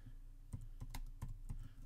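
Keys on a computer keyboard click in a quick, uneven run of taps, close and fairly quiet, with no talking.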